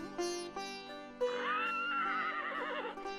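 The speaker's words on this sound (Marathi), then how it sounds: "ही कोणाची किंकाळी? घोड्याची." A horse whinnies loudly and close, its shrill call rising and then wavering with a trembling tail, preceded by a few short sounds and set against a steady background tone.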